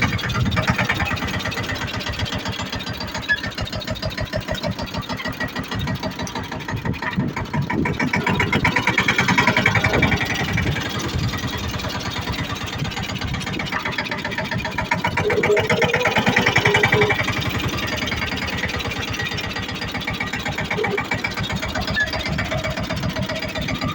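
A tractor engine runs on a farm, a steady rumbling idle with rhythmic knocking that swells slightly in places and continues throughout.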